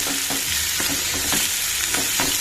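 Ash gourd curry fries in a pan while a spoon stirs it, producing a loud continuous sizzle with repeated scraping strokes up close and no speech.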